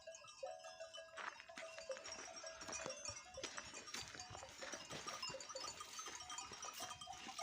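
Distant sheep bleat now and then amid a busy flock in a mountain village, with scattered rustling and a steady background hum; no talking.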